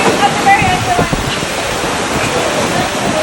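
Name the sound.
heavy rain downpour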